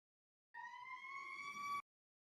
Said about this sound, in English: That's the noise of the liftoff, by the way.